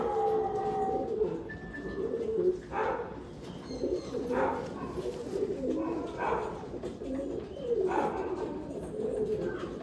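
Homing pigeons cooing in a loft: repeated soft, throaty coos at a steady, unhurried rhythm, fairly close, with faint background noise between the calls.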